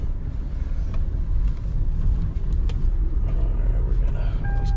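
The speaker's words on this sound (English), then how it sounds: "We're gonna go for a quick drive here." Kia Soul with a hard-shifting transmission fault driving, a steady low rumble of engine and road noise from inside the cabin, fairly loud and continuous, with a faint tone near the end.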